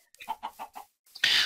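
Chickens on a farm in a video game, a quick run of four or five clucks close by, followed by a sharper burst of noise.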